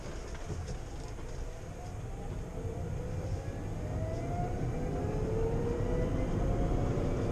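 Loud, steady cabin rumble inside a Citroën Ami small electric car while driving, with a rising whine building over several seconds as it accelerates; no voices.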